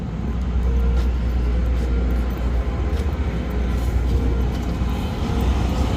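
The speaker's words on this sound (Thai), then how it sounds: "เราเห็นรถไฟแล้วทุกคนรถไฟมาแล้ว" A cement freight train rumbles steadily past in Saraburi, Thailand, a continuous low heavy roll of wheels and wagons, close and loud with no talk.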